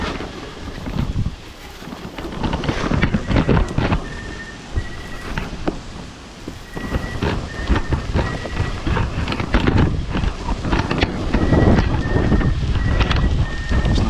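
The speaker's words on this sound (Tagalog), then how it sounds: "Hangin." Strong gusting wind buffets the microphone with loud rumbling bursts throughout, under a constant noisy roar, with no voices.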